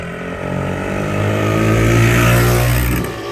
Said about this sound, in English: Watch him, he's gonna do a wheelie or something.